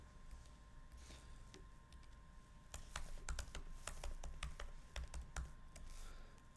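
Someone types code on a computer keyboard, producing a steady stream of soft key clicks with sharper taps clustered in the middle, close and moderately quiet.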